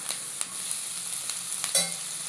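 Capsicum being stir-fried for chilli garlic egg fried rice, a constant close sizzle with a few light clicks of the spatula against the pan.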